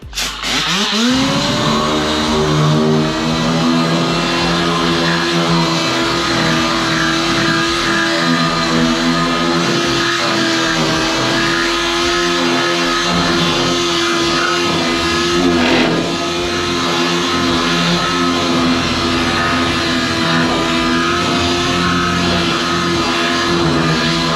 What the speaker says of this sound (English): And let's hit it with the sander.